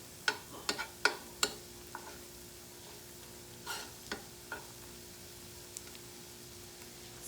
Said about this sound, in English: You can see that our garlic is roasting very well with the butter.